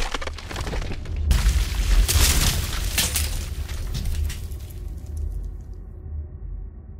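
A cinematic channel intro sting for a hydraulic ram pump tutorial, opening with a loud boom and crashing burst that swells and then fades into a decaying tail.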